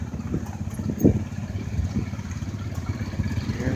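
A 1951 Oliver tractor engine idles at an outdoor steam and gas engine show, a steady low chugging rumble with small irregular pops and knocks running throughout.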